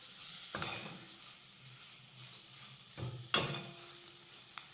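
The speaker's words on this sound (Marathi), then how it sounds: "आता यामध्ये घालूयात बारीक चिरलेली कोथिंबीर आणि मिक्स करून घेऊयात" A spatula folds chopped coriander into capsicum sabzi in a pan, giving two brief scraping stirs over a faint sizzle, quiet and close.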